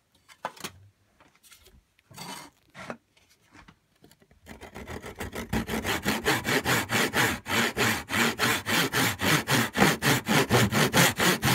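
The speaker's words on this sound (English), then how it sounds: "I'll cut down there with a tenon saw." A tenon saw cuts through a wooden frame piece clamped in a vise, starting with a few hesitant scrapes and then settling into a steady, loud back-and-forth rhythm of rasping strokes, close up and alone.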